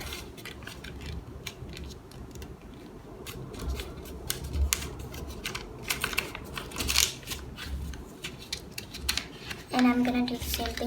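Origami paper for a crane being folded and creased by hand, quiet crisp crinkles and sharp pressing clicks in an irregular rhythm, faint and close, with talk in places.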